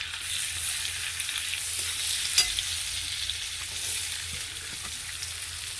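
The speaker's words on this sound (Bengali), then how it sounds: "দিয়ে দিচ্ছি পেঁয়াজ, ছোট ছোট করে কুচিয়ে রেখেছি" Finely chopped onion fries in a tadka, producing a constant bright sizzle with soft stirring scrapes and a single sharper tap partway through, close and without voices.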